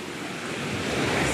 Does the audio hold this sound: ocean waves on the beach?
yes